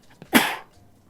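A single short sneeze bursts out close and fairly loud in a video game scene, preceded by a faint intake of breath.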